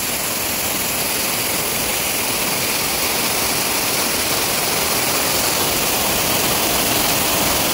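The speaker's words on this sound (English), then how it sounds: "this is the spirit of Guppala Mangamma underneath of huge waterfall" A huge waterfall near the Gubbala Mangamma temple on the AP-TG border roars as a steady, loud, dense rush of falling water, with no voices over it.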